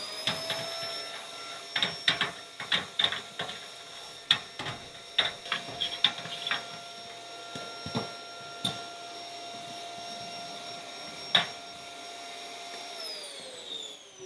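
A vacuum cleaner fitted with an upholstery brush works along the fins of a baseboard heater, a steady whining hum broken by irregular light clicks and taps as the brush meets the metal.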